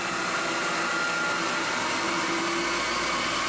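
Milling machine cutting 4140 chromoly steel at about 2,800 RPM, a continuous close whirring drone with a faint steady hum and no breaks.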